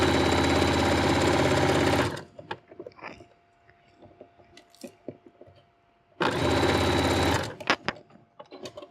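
A domestic sewing machine topstitches a hem about 2 mm from the edge, running loud and steady in two bursts of several seconds each, with quieter handling clicks and fabric rustle in between.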